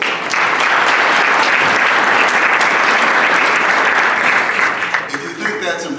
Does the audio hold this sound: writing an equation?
no